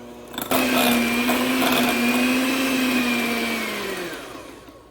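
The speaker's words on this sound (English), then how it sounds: "We've got some good softened butter and cream cheese in here. We're just going to beat that together real quick." An electric hand mixer whirs steadily as it beats softened butter and cream cheese for frosting, starting abruptly, holding a loud even whine for several seconds, then winding down and stopping.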